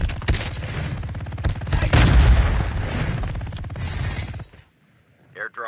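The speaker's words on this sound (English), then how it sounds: "Flashbang grenade." Flashbang grenade going off in Call of Duty Mobile, a loud booming burst with ringing and gunfire layered through a few seconds of game audio, cutting off abruptly.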